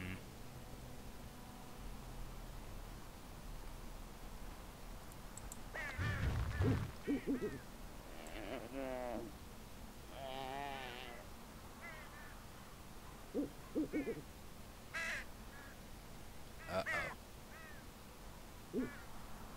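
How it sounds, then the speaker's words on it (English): Birds in the Dragon Age Origins video game give scattered calls, a few hoots and caws sounding faintly at irregular intervals over a quiet ambient background. "you got some birds behind you"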